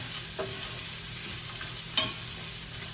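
Onion and garlic frying in a pan give a steady low sizzle, broken by two brief scrapes of a spoon being stirred through them.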